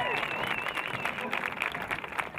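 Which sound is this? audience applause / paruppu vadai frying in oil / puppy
audience applause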